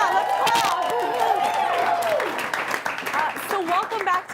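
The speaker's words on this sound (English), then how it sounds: "Yeah, let's clap." A small audience claps for a returning Emerson alum on a college talk show, steady applause with cheering and voices over it, tapering off as conversation resumes.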